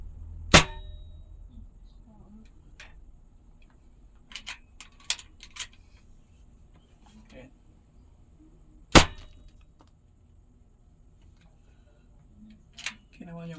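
A gun fitted with a homemade silencer is fired indoors in a room, giving one sharp muffled report near the start and another about eight seconds later, with faint hammer clicks and ticks in between and soft talk.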